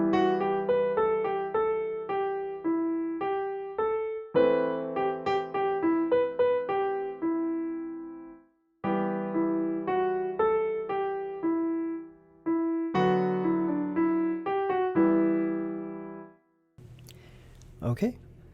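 Piano playing the chords of a song slowly, left hand matching the right: clear, moderately soft melodic notes over sustained chords in several phrases with short pauses, ending with a brief burst of noise.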